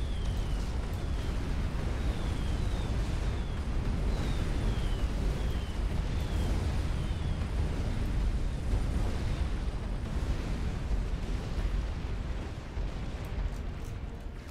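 Continuous low rumble of artillery fire and explosions from a Duke unit in a strategy battle game, dense and booming throughout, with faint whistling projectile sounds sliding overhead.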